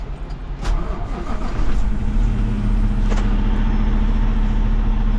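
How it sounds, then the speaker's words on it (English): Truck engine starting and settling into a steady low idle, close and loud, with a few clicks and clunks near the start; a flatbed truck used for towing a fifth-wheel trailer. "then you're going to need to turn the truck back on."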